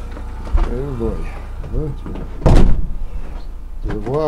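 A poorly sealed door opens and closes once, a short close thud standing out briefly amid steady conversation nearby.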